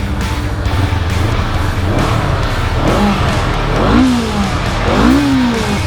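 A Honda CL500 500cc motorcycle engine revs repeatedly up and down nearby, rising and falling pitch sweeps over a loud continuous idle rumble.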